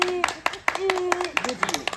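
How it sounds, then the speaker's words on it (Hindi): Scattered hand claps at a village wedding garland ceremony, roughly eight sharp slaps in irregular bursts, close by and mixed with lively overlapping conversation. "ताली"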